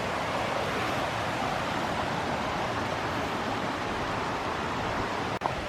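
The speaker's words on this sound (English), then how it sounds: "relax and enjoy the little river." Steady broadband rush of the Little River flowing through the Great Smoky Mountains, constant and close, with a brief sharp knock near the end and no talking.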